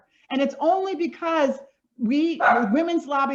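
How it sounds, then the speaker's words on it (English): A pet dog barks a few times in a home setting, the yaps mixed in under a continuous, close-up stretch of someone talking. "that's my dog, sorry"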